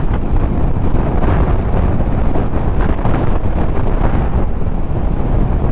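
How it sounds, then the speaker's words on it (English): Strong wind buffets a rider on a Honda VFR800F motorcycle, a loud, constant roaring rush that fills the whole stretch with no break and no voices. "Proper bad wind. So I'm going to take it easy on my way back."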